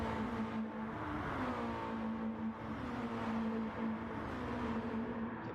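A Mazda MX5 touring car at Circuit de Sainte-Croix in a racing video game, engine holding a steady loud drone with slight pitch dips as it brakes, no talking.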